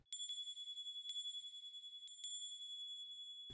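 A small handbell rung in a radio drama, sounding three or four bright, ringing strokes with long shimmering decay, close and clear against near silence.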